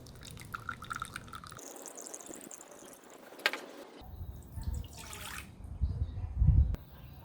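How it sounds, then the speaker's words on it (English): Rice vinegar is poured into a pan for sushi rice seasoning, giving a close, soft trickle and splash with a few dull knocks and clatters toward the end. "Now add in half cup of rice vinegar."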